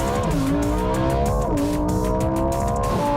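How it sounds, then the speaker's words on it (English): A loud, close Lamborghini Huracán STO engine roars at high revs, its pitch climbing and then dropping sharply at each quick gear change, about three shifts. "This car shifts so fast."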